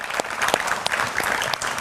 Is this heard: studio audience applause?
yes